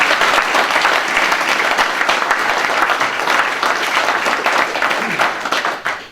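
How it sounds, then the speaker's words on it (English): A public meeting crowd about a canal applauds loudly and steadily, dense clapping filling the room before tapering off at the very end. "they deserve our applause as well"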